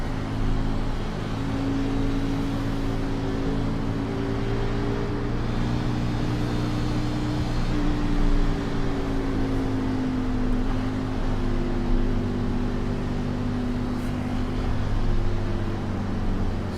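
A race car engine drones steadily at a constant pitch on an out lap around the Homestead oval in iRacing, a continuous loud hum with no talk over it.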